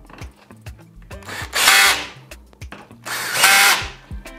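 A power tool drives a screw into a small thread to fasten a cover, giving two loud whirring bursts separated by short clicks and handling noise.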